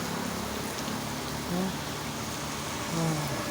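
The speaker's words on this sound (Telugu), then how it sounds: "ఈరోజు వర్షం పడుతుంది" Steady rain falling outdoors, a continuous hiss of drops with faint passing vehicle hum underneath.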